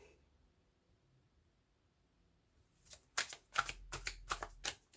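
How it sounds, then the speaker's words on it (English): A deck of tarot cards being shuffled, a quiet pause and then a run of crisp riffling bursts close by, one after another, with no talk. "I was shuffling the cards"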